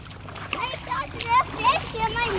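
Feet splash through shallow creek water in a few uneven bursts, with children's voices and chatter around the splashing in an outdoor stream setting.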